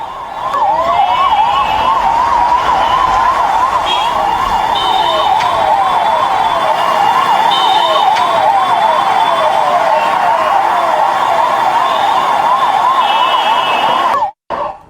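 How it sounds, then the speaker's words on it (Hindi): An ambulance siren wails loudly and close at a hospital in India, a rapid rising-and-falling yelp repeating steadily for the whole stretch before cutting off abruptly near the end. "एम्बुलेंस जब मेदांता पहुंची"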